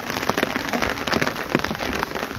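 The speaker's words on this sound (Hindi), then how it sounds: "किस कदर झमाझम बारिश राजधानी शिमला में हो रही है" Heavy rain pours steadily in Shimla, a dense, continuous wash of drops pattering on surfaces close by, with no voices.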